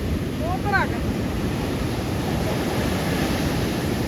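Storm-driven sea waves roar in a constant, loud wash of surf and wind buffeting, with a brief high whistle-like sound early on.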